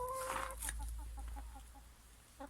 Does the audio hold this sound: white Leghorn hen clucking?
yes